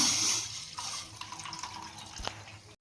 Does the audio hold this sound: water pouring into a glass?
yes